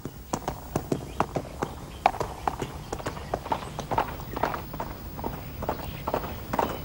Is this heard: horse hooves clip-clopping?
yes